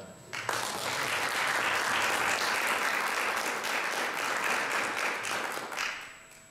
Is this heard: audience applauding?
yes